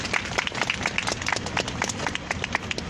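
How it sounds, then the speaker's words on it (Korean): Audience applause at a Wednesday street rally in Seoul, greeting the next speaker. Dense, steady clapping from many hands with scattered sharp claps standing out, moderately near, no talking. "박수로 맞아주십시오"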